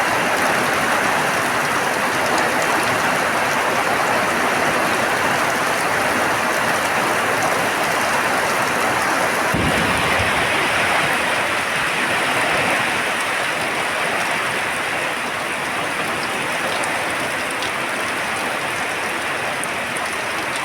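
Steady, dense rain pouring on a windy day, a loud continuous hiss of drops on surfaces lasting the whole stretch, broken once midway by a single dull low thump.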